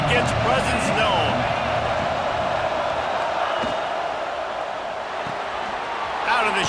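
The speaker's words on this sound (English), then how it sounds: "This crowd ready to make its presence known." Stadium crowd roar from the EA Sports College Football 26 video game, a dense, sustained wash of massed voices and cheering, loud and steady throughout with faint thumps mixed in.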